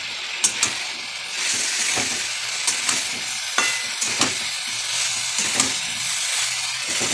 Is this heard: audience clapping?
no